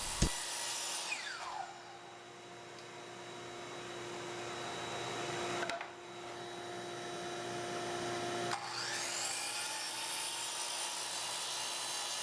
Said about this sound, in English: I'm doing this 45-degree cut from both sides because dimension very small